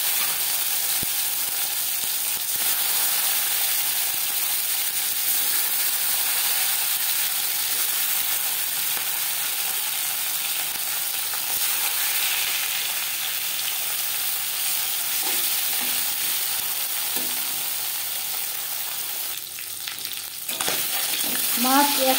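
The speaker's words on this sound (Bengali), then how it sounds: "এবার দিয়ে দেবো ম্যারিনেট করে রাখা মাছ।" Marinated singhi fish (stinging catfish) frying in about three spoons of hot refined oil in a pan, giving a steady, loud, continuous sizzle and crackle throughout, with a few brief clinks and spatula scrapes near the end and no talking.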